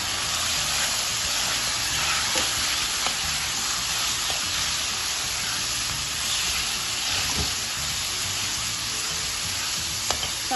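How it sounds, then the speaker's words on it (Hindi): Chicken frying in a small amount of oil with minced garlic, a dense steady sizzle close up with occasional faint clinks of stirring. "उसके लिए मैंने 2 चम्मच ऑयल लिया है, उसमें 1 चम्मच मैंने पिसा हुआ लहसुन लहसुन थोड़ा सा फ्राई होगा तो फिर मैं इसमें चिकन डालूँगी।"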